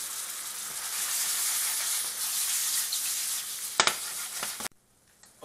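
Squid frying with garlic in a pan gives a loud, steady sizzle and hiss that runs unbroken, then is marked by a few sharp spatters before cutting off abruptly near the end.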